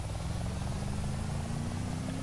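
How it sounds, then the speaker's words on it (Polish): A helicopter in the military video game Arma drones steadily at a distance, its rotor thrum and rising engine whine holding constant and unbroken. "Tu na ekran słyszę jakiś śmigłowiec."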